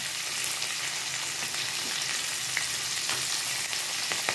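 Green beans frying in hot oil in a pan along with nutmeg, ginger flakes and bay leaves make a steady, close sizzle with light crackles and occasional stirring scrapes, with no talk.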